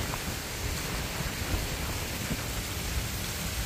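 Heavy rain falling steadily near a bridge in a rural Vietnamese hamlet, a dense, even hiss with no voices, moderately quiet and unbroken.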